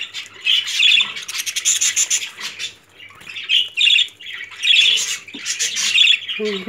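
Caged budgerigars squawk and chirp loudly and close up in rapid, repeated bursts, with a brief rustle of movement near the end.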